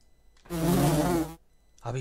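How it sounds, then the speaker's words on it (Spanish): Wasps buzz in the role-playing game Lords of Xulima, a loud, close drone lasting nearly a second, then falling silent before another burst begins. "Las puñeteras avispas"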